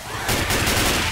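Video game gunfire from Left 4 Dead 2 comes as a short, loud, dense burst of blasts that runs on without a break. Given as shotgun fire.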